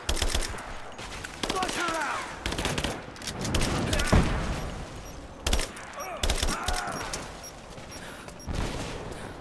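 Enemy gunfire rattles in Rise of the Tomb Raider, with repeated bursts of automatic shots cracking in clusters across the scene and brief pauses between volleys.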